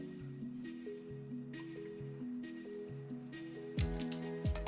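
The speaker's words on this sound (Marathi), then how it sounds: "मेथी घातल्यावर छान प्रकारे मिक्स करून घ्यायचं आहे" Fenugreek leaves are stirred into masala in a kadhai for a dhaba-style methi masala, making repeated wet squishing and scraping sounds in a steady rhythm, with a couple of louder clatters near the end.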